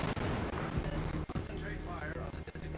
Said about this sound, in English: Incoming shells.